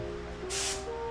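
Compressor-fed spray gun laying clear coat paint, a brief soft hissing burst of spray lasting under half a second over steady background hum.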